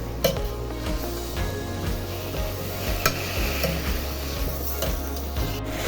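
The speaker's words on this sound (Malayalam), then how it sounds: "ഉരുളക്കിഴങ്ങും തക്കാളി എല്ലാം ഇട്ട് കൊടുക്കാം. ഇനി ഇത് നന്നായി ഒന്ന് ഇളക്കി കുറച്ച് വാടട്ടെ." Potatoes and tomatoes are stirred in a cooking pan with a continuous low sizzle and rumble, broken by scattered scraping knocks of a spoon against the metal. No one speaks.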